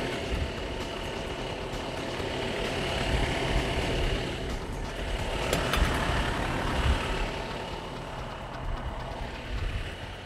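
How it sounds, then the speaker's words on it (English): A fire engine's motor is throttled up to build pump pressure, a loud, dense, continuous roar that swells slightly and then settles, with faint metallic ticks over the top. "I like to throttle up a little bit just to make sure it's building pressure"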